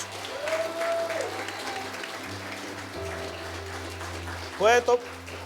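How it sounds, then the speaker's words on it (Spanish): A church congregation applauds for Jesus, steady scattered clapping under a low hum, with a voice singing or calling out briefly and a louder shout near the end. "¿Cuánto le dan un aplauso a Jesús?"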